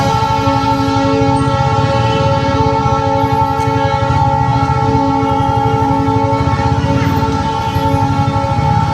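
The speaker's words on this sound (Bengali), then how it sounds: "ট্রেন ছেড়েও দিয়েছে, দেখেছো?" A departing train sounds a loud, sustained horn that holds for the whole stretch over a rhythmic chugging rumble, close by and unbroken.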